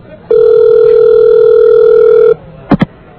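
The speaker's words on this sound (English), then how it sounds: "All right, it's ringing." A telephone rings out on a call, one long steady electronic tone lasting about two seconds, loud and close, followed by a couple of short clicks as the line picks up.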